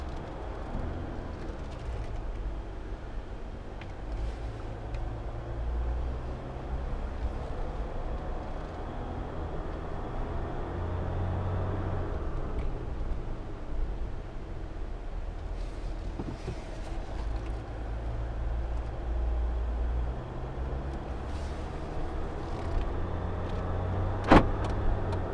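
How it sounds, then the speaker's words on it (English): A 2015 RAM 1500 Crew Cab Big Horn EcoDiesel truck drives slowly around a dealership parking lot, heard from inside as a steady low engine and road hum, with a brief sharp click near the end. "we're just going to take a quick drive around the parking lot of the dealership"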